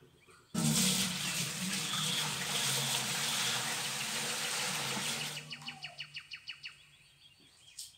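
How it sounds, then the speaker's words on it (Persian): Tap water gushing loudly into a cooking pot for manti dumplings, a sudden strong stream for about five seconds before it cuts off, followed by a short series of dripping splashes and faint bird chirps in the background. "دیگمون آب میکنیم."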